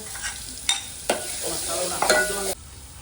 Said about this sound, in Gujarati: તો વઘાર કરી દઈએ મિત્રો